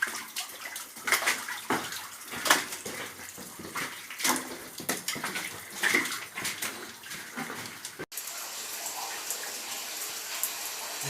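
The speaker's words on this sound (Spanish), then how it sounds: "Aquí tenemos una filtración de agua natural" Natural water seeps and trickles inside the Yachak Uktu cave, a close, irregular patter of drips and small splashes echoing in the chamber, growing into a steadier wash toward the end.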